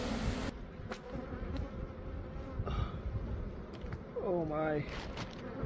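An angry swarm of bees pours from a large beehive built into a roof, making a loud, dense, continuous buzz that fills the whole stretch at close range, while a person briefly exclaims over it near the end.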